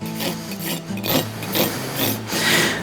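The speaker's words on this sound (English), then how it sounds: "Then I'll take my file and I will file them all square and to a uniform length." A farrier's file rasps steadily across the clinched ends of bent nails in a horse's hoof, squaring them to an even length during front shoeing with Kerckhaert SX roller shoes; close, loud back-and-forth strokes with no talking.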